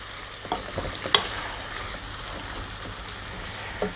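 Sausage and peppers sizzle steadily in a frying pan for a Greek spetsofai, a constant bubbling hiss with a few sharper pops and a brief clink of stirring, close by and with no talk.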